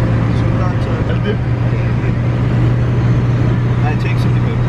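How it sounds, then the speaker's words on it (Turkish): Inside a car cruising at 110 km/h on a highway with poor sound insulation, a steady low road rumble and tyre drone fills the cabin continuously, with a strong constant hum underneath. "Arabanın yol sesi çok alıyor."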